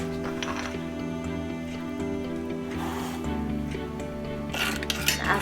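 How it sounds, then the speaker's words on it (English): A spoon stirs salt into hot water in a saucepan, giving light clinks and scrapes of metal against the pan over a steady background of tonal music. "As we stir it, the salt dissolves into the hot water."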